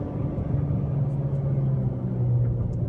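A 2014 Chevy Sonic LT engine holds a steady loud droning rumble at high revs against the limiter in manual shift, heard from inside the cabin with no clear pulsing cuts.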